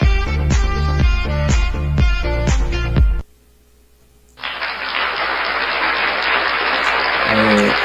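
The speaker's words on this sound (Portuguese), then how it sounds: "Novamente um aplauso, só que ele é um pouco mais demorado" A few seconds of music with plucked notes, a brief near-silent pause, then long, steady applause from a sound effect on a mini mixing console that holds to the end.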